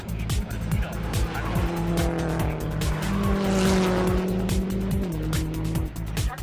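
Subaru Impreza STI racing at the Nürburgring in Gran Turismo, a loud revving engine with rising and falling pitch through gear changes, tire squeal and skidding, and a voice talking over it.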